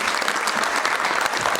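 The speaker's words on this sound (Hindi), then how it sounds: "खूब बजाओ तालियां क्योंकि अभी आ रहे हैं सुमित द स्टॉपर शो" An audience at an investor meet in India applauding to welcome a speaker to the stage, a steady dense wash of clapping with no pauses, loud and full.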